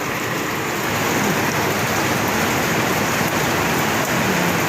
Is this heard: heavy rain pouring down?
yes